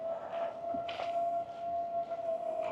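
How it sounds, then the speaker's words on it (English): A distant tornado siren in small-town Texas holds a steady, wavering tone for the whole stretch, faint and far off over a quiet outdoor background, with no talking. "I hear some siren in the distance. What the hell is that? Is that a tornado siren?"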